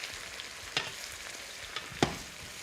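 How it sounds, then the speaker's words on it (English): Beef sizzles steadily in a hot wok during stir-frying, a continuous crackling hiss punctuated by a few sharp pops and clinks of stirring. "That's the hallmark of really good stir-fry wok cooking."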